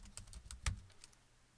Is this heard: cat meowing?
no